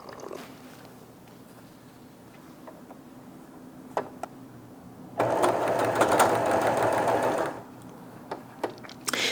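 Sewing machine stitching strips of Liberty fabric for a summer quilt, a steady mechanical whir running for a couple of seconds mid-clip, with quiet clicks and handling noises before and after.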